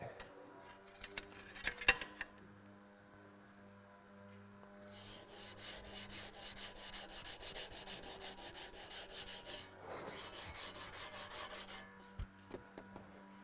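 Flat file rasping across a workpiece in a steady run of rhythmic back-and-forth strokes, close and fairly loud, with a brief pause before a second burst of strokes.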